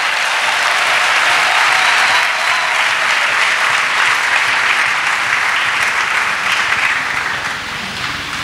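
A church congregation at a revival service applauds, a dense, steady wash of many clapping hands that fills the room at even loudness and eases slightly toward the end.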